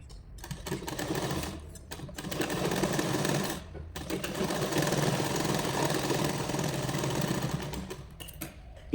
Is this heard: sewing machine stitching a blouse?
yes